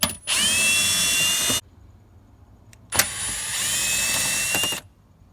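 A power drill whirs in two separate bursts as it backs out two Phillips head screws from a lower panel, each run steady and close, with a brief quiet pause between them.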